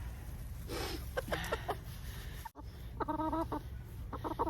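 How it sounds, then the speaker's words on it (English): A buff Orpington hen clucks in short, soft bursts at close range in a backyard, with brief pauses between calls over a steady low background hum. "Here's one of our chickens. This is Gertrude."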